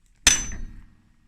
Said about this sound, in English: we'll use this shitty old hammer here